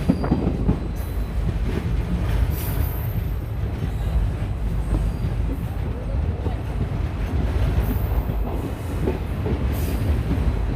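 A passenger train hauled by a diesel locomotive running on rails from Old Malda toward Adina, heard from inside as a loud continuous rumble with rhythmic wheel clatter and occasional squeals.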